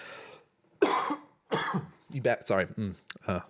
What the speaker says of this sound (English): Coughs.